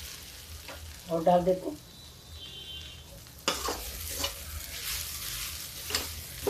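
Dosa stuffing with curry leaves fries and gets stirred in a pan, a steady sizzle with scraping stirs, while someone talks briefly over it.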